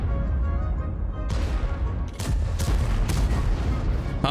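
Rapid autoloader tank cannon shots fire in a video game, a string of sharp loud booms over a constant rumbling battle background, with several blasts bunched closely together in the second half.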